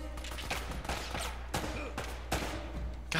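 Gunfire in Uncharted: Drake's Fortune on PS3 comes as a string of sharp shots at irregular intervals over a busy, steady bed of game ambience.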